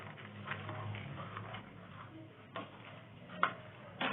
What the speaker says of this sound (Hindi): अब इसको अच्छी तरह से हल करूंगी।